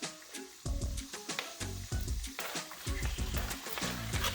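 Garlic and chili frying in oil over medium heat, with a steady close sizzle and crackle that rises sharply after a short quiet start and carries on with a few clattering stirs.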